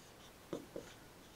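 A couple of quick, faint strokes of writing on a lecture-hall board, two short scratches about a quarter second apart against a quiet room.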